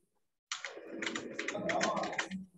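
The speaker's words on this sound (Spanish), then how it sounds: "De un teclado." Fingers type on a computer keyboard in quick clustered bursts of clicking for about two seconds, close and clear against a quiet background.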